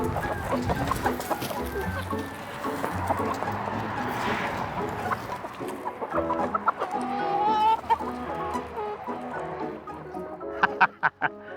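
Free-range chickens roaming a green tea field, clucking and squawking continuously from several birds nearby, gathering at feeding time, with a voice talking over them.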